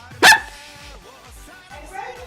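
A dog gives one sharp, loud bark near the start, followed by quiet indoor background with a faint low hum.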